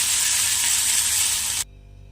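Fish pieces frying in a pan of hot oil, giving a loud, dense, steady sizzle that cuts off abruptly near the end, with no talking.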